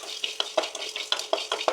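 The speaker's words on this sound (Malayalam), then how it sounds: "മല്ലിയും വറുക്കണം." Coriander seeds roast in a pan for chicken curry, with a dry sizzle and a regular run of sharp scraping stirs, close up and with no voices.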